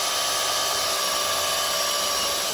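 A power drill whines at a steady high pitch, loud and close, running continuously without a pause while drilling a hole in a Powerhorse 2300i inverter generator.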